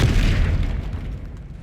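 A heavy magical impact booms in Hogwarts Legacy as the Descendo spell slams down: one loud low thud that rumbles and slowly fades over about two seconds.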